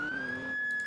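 Steady high police siren tone from the ER:LC video game in whale mode, a sustained near-constant pitch held loud and close for under a second, with no talk.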